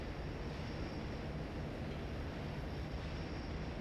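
Steady low rumbling hum of a moving tram in the video game F.E.A.R. 2, a continuous broadband drone with no breaks, no speech over it.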